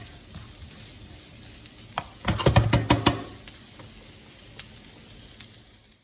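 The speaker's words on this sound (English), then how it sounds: "the rendered bacon oil and the olive oil, and then they will start to fry as well" Mushrooms frying in rendered bacon fat and olive oil for a creamy bacon and mushroom fettuccine, giving a soft steady sizzle with a brief louder burst of crackling and stirring midway.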